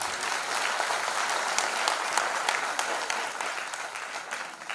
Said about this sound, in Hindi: तालियां और भी बजानी पड़ेंगी